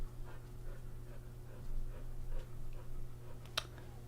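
A dog pants in quick rhythmic breaths, close and fairly soft over a steady low hum, with a sharp click near the end.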